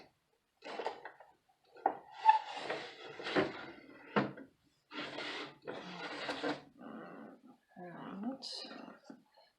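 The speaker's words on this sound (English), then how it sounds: "Get the other drawer out." A drawer is pulled out during the cleanup of a Mason Rotary, giving a few hard clunks and a short scraping slide close by, with a person talking steadily throughout.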